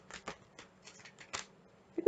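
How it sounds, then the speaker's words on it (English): A deck of cards is shuffled in quick, crisp riffling bursts, close and moderately loud, with brief pauses between the flurries. "and the final shuffle"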